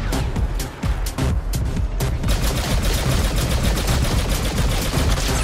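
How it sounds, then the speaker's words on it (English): Sustained bursts of automatic gunfire in the video game Star Wars Battlefront II, loud and rapid with repeated sharp cracks, thickening after the first couple of seconds into a steady fusillade. "Oh, someone's shooting at me."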